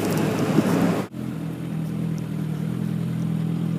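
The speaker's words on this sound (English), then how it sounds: "There you go, some more bikers. Kawasaki Ninja ZX6R, sorry, classic one." Kawasaki Ninja ZX6R sport motorcycles pass by, a loud engine roar that drops off abruptly, followed by a steady lower engine hum fading into the background.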